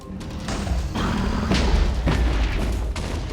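Several heavy booming blasts in quick succession in Minecraft BedWars, dense and crunchy, with a game-like explosive rumble between them.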